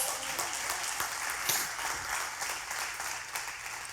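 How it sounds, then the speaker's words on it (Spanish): A church congregation applauds during a Spanish-language sermon, a steady wash of many hands clapping at moderate distance, sustained evenly throughout with no talking over it. "Dale ese aplauso a Dios"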